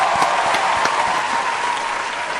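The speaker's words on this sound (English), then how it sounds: "folks, big round of applause for Edgar" Steady applause from an audience at a Browns NFL Draft event in Akron, dense continuous clapping throughout without pause, close and fairly loud.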